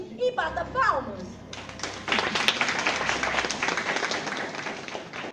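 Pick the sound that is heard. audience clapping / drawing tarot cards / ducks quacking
audience clapping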